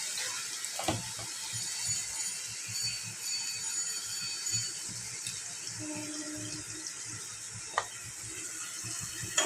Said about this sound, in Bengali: ভালো করে আমি কষিয়ে নিব মশলাটাকে